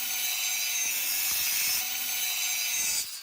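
A saw cuts a metal piece from a fire extinguisher along a traced line in a steady, harsh, continuous rasp, then stops abruptly at the end.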